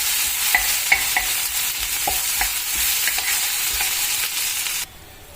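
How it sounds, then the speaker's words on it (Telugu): Ginger garlic paste gets stirred into bitter gourd frying in a pan, with a soft sizzle and a series of light spoon taps and scrapes, close and alone before the sound suddenly cuts off. "ఇంకా తర్వాత అల్లం వెల్లిపాయ పేస్ట్, వీటన్నిటిని ఇలా కలిపేసుకోవాలి."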